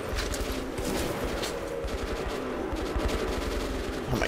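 Rangers fire in a Metro 2033 battle, producing dense rapid automatic gunfire with overlapping shots and loud, continuous bursts.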